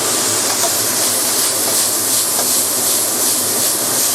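Salted pork belly stir-fried with leek flowers in a very hot wok, producing a loud, dense, continuous hiss of sizzling close by.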